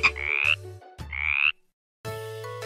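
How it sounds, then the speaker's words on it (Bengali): A frog croaks in three loud, close, rasping calls, the first two as stretched rising croaks and the last a shorter buzzing call after a pause, each standing alone with no talk. "ব্যাঙ ডাকে ঘ্যাঙর ঘ্যাঙর ঘ্যাং।"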